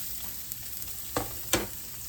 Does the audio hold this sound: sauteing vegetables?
yes